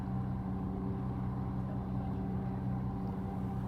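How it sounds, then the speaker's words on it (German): A steady, droning sailing yacht engine runs continuously with a low hum and constant loudness throughout, with no voices. "Ohne Wind bleibt der Crew nur der Motor als Antrieb."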